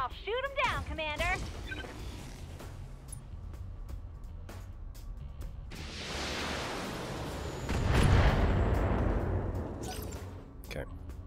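Mech weapons firing in the BattleTech video game, with a burst of rapid chirping shots early, scattered impacts, then a swelling roar of explosions and gunfire mid-clip, while a voice talks over much of it.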